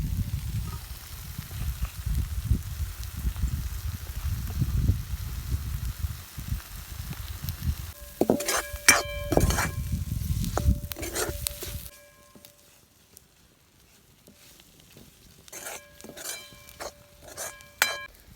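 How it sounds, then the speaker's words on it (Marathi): Spices and crushed peanut powder sizzle steadily as they are sautéed in a pan for the Marathi sandage bhaji, then metal spoon clinks and stirring scrapes against the pan, and the sizzle fades quieter near the end. "आता हे मसाले छान परतलेत आपले."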